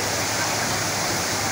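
Water falls and splashes continuously in a river, a steady dense rush that is loud and close, with no talk over it.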